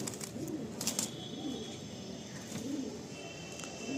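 Madrasi pigeons coo in soft, low pulses among faint background chatter and a few brief sharp clicks.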